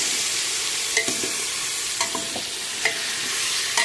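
Stuffed brinjals fry in hot oil with a steady bright sizzle, while a spoon stirs them and clicks against the pan a few times at close range, with no voices.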